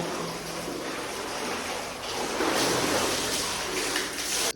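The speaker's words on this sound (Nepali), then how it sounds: "पानी आइरहेको छ तर धमिलो आएको छ।" Muddy water flows into a drinking-water tank as a continuous rushing, splashing wash that swells a little louder midway and stays steady to the end, with no talking.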